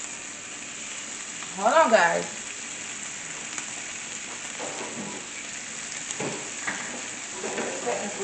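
Bacon-wrapped scallops sear in a pan with a faint, steady sizzle, while a person speaks briefly over the cooking.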